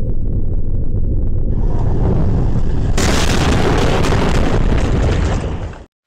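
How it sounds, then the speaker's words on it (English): A deep, loud rumble builds steadily, then a massive explosion bursts in and roars on before cutting off abruptly. "The sound was an intense rumbling noise, followed by an audible explosion."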